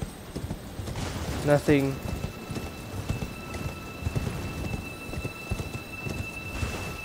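Horse hoofbeats while riding in Elden Ring: a rapid, steady clip-clop of hooves throughout, moderately loud, with a whinny-like call early on and a voice speaking over it.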